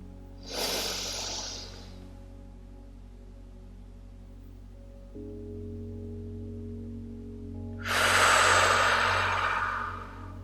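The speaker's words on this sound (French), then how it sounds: "Inspirez profondément par le nez. Retenez votre respiration un instant et expirez par la bouche." Slow, deep breathing for a guided meditation, a long audible inhale through the nose, a held pause, then a fuller exhale through the mouth, close and soft over a steady low hum.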